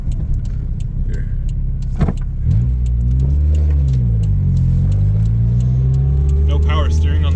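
A Toyota Tercel without power steering drives at low speed, its engine a loud close rumble with the pitch rising and falling; people talk over it and keys jangle.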